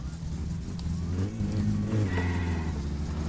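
Car engine in My Summer Car revving hard and rising in pitch as the wheels spin, a dense, loud mechanical roar throughout with no voices.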